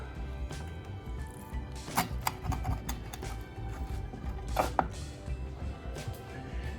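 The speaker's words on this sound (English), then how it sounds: "Let's cut it nice and thin." A knife cuts through a homemade wagyu beef and pepperoni pizza, giving a few crisp, sharp crunches and scrapes against a steady low hum, with the loudest cuts bunched together near the middle and toward the end.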